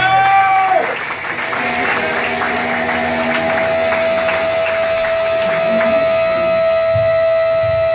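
A comedy club crowd welcomes comedian Peter Hughes with sustained applause and cheering, steady and fairly loud throughout, with a shouted voice near the start.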